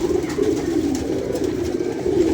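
A pigeon held in someone's hand coos steadily and close by, a continuous low murmuring call lasting throughout with no pauses and no voices over it.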